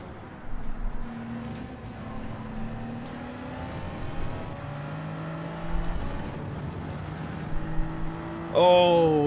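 A Toyota Supra in Gran Turismo 7 runs flat out near top speed on hard tyres, its engine holding a steady high drone with a few shifts in pitch and a brief sharp burst at the end.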